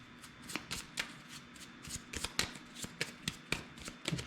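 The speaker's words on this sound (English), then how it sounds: "Shuffle them up a little bit." A deck of cards for the Spruance Leader solo board game shuffled by hand, a rapid series of crisp riffling flicks and soft slaps at an uneven rhythm, close up with no talking.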